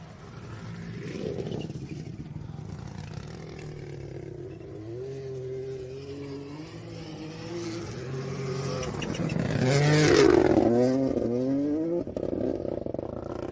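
A Toyota Gazoo Racing rally car engine revs and roars over a jump on a Rally of Canberra stage, approaching and rising to a loud peak, then dropping back, heard from nearby without talk.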